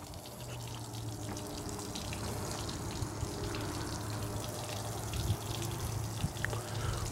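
A 60 hp four-stroke outboard on a 2010 Bass Tracker Pro Team 175 runs steadily at idle, its even engine hum layered under a continuous splashing gush of pumped cooling water, close and constant throughout.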